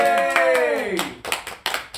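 BTS members clap their hands together in a few sharp, close claps as a live broadcast wraps up, while voices call out over the clapping.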